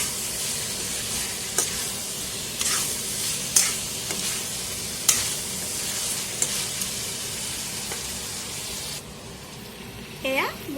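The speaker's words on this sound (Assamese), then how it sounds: "এয়া মোৰ মাংসখিনি পূৰা ভাজা হৈ গৈছে" Goat meat fries in a pan with a loud, constant sizzle, punctuated by sharp spatula scrapes and clicks every second or so as it is stirred.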